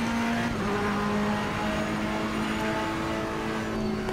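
Multi-class GT race cars, Ferrari, BMW and Porsche among them, race at Watkins Glen in Assetto Corsa Competizione, with a steady loud engine drone and whining gears holding throughout.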